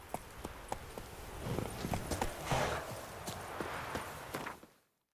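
A horse gallops in The Witcher 3, with quick rhythmic hoofbeats over a rushing ambient bed that swells midway, then cuts off abruptly at the end.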